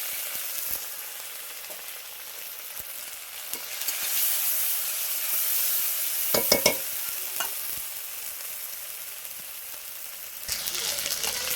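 A ground paste of poppy seed and tomato fries in a pan as a masala for fish curry. It makes a continuous close sizzle with stirring scrapes and a short burst of spoon clatter partway through.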